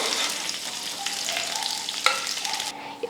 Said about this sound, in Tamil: க்ளீன் பண்ண கருவாடை சேர்த்து லைட்டாக வறுத்து எடுத்துக்கலாம்